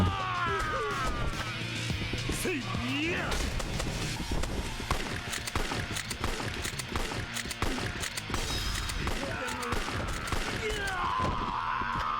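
Video game gunfire from Yakuza 3 Remastered crackles in repeated bursts amid dense combat sounds, footsteps and impacts, loud and continuous throughout.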